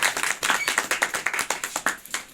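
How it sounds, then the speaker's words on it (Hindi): A seated crowd at a gathering gives rhythmic applause, clapping in a loud, regular unison beat of sharp strikes close to the recorder. "जोरदार तालियां।"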